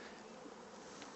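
Dense, steady buzzing of many honeybees at a hive during honey harvest fills the air, a continuous close hum with no voices.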